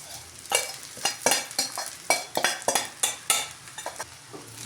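Sago pearls (sabudana) poured and stirred into a pan on a low gas flame: a series of clattering, scraping strokes and light sizzling bursts, close and uneven in rhythm, with no talking.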